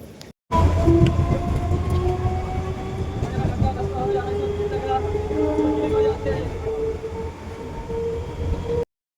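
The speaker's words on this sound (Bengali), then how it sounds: "এক্ষুনি ট্রেন ঢুকলে দৌড় দেবো স্টেশনে" A train pulls into the station at Gobardanga with a loud, sustained rumble and rattle of wagons, long tonal horn or brake squeals drawn out over it, and voices faintly mixed underneath.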